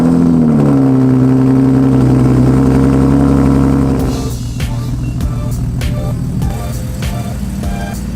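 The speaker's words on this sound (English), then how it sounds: "Ooh, cold start, I can never forget that." A Nissan 370Z engine idles loudly after a cold start, its raised idle droning steadily before settling to a lower, rougher idle partway through, with a faint voice briefly underneath.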